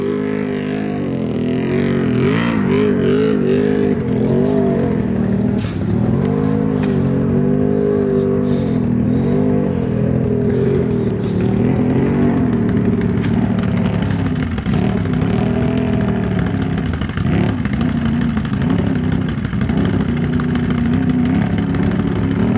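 A Can-Am Renegade XMR 1000R ATV with an 1085cc big-bore kit revs hard on a trail. The engine drones loud and close throughout, its pitch rising and falling as the throttle is worked.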